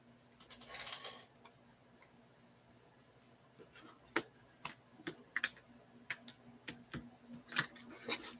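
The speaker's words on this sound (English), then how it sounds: "let me shuffle over here." Tarot cards being shuffled: a run of light, irregular clicks and riffling taps, fairly faint and close, over a quiet room hum with no speech.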